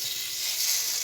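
Salmon burgers sizzling in a hot frying pan, a close, steady hiss without break for a brief moment, no talk.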